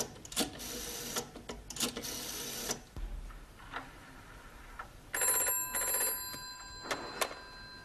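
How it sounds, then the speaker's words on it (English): A telephone rings on a call to a hospital ward, giving repeated electronic trilling bursts in a regular pattern, moderately loud and clear, with brief clicks and pauses between rings. "I go and phone hospital to see how is Mr. Brown"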